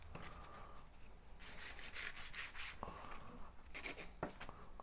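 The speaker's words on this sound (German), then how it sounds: "Nach vorne, nach unten feilen." A nail file rasps across gel nails, shaping them into a ballerina form in short, close, scratchy strokes separated by brief pauses.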